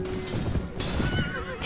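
A horse in the Mount and Blade: Warband medieval battle game gives a single loud whinny over clip-clopping hooves and battle noise, close and brief.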